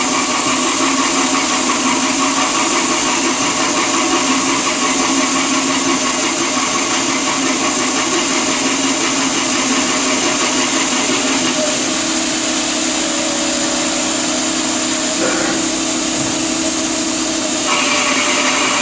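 Mill-turn machine cutting an inner bearing adapter at 800 RPM, a loud continuous machining drone with a steady high whine and shifting tonal cutting sounds that change pitch near the end.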